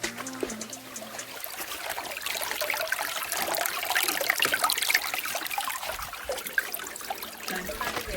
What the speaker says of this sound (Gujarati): તને પાણીનો અવાજ સંભળાતો હોય તો સંભળાવ.